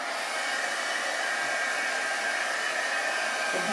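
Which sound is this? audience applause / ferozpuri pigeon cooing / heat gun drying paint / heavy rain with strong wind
heat gun drying paint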